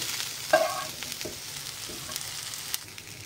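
Chopped potato frying and being stirred in a pan with onion for Goan poha, a soft steady sizzle with several scraping stirs and clinks of a spoon, fairly quiet and close.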